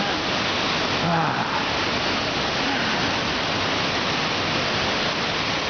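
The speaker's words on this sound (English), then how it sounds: "You can feel the positive energy ions coming off of the New Age waterfall." Twin Falls waterfall in Olallie State Park, Washington roars as a loud, unbroken wash of rushing water, constant and close throughout.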